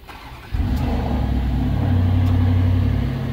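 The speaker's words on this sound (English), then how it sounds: "Today we installed a remote starter into a 2021 Audi SQ7." A 2021 Audi SQ7 engine fires up by remote starter, with a sudden loud catch after a brief quiet moment, then settles into a steady, full idle that swells slightly before easing off.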